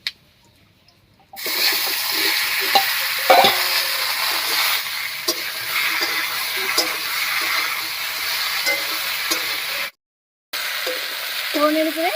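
Cut ash gourd dropped into hot mustard oil seasoned with cumin and bay leaf bursts into a loud sustained sizzle, with stirring scrapes over it and a brief silent gap near the end.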